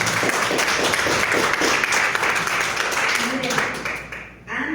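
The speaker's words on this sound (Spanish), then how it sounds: "Y un aplauso para todos." An audience at a round-table session on competency assessment applauds, a dense wash of clapping that holds steady and then tapers off, with a voice over it.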